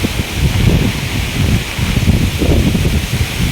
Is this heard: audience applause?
no